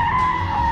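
A brief, steady high-pitched tire squeal from a truck doing a reverse neutral drop, loud and close, lasting under a second.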